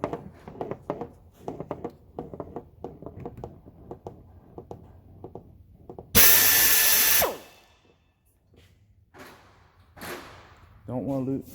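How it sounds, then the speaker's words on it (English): A loud burst of a power drill running for about a second as the bit removes a rivet head on a Piper aircraft door, then stopping, followed by a few short whirs and clicks after scattered tool noises. "just lightly touch it with the drill bit."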